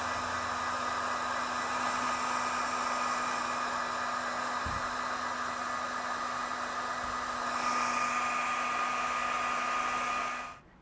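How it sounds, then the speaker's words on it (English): A heat gun blows a steady, loud, even roar as it shrinks heat-shrink tubing over trailer wiring connections on a 2022 Jeep, continuing unbroken for about ten seconds before switching off abruptly. "come back with a heat gun and shrink them down"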